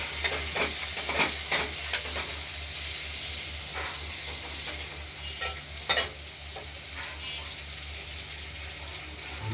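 Potatoes with turmeric fry in a pan, giving a steady, soft sizzle broken by intermittent scraping stirs and a louder clatter partway through, heard close with no talking.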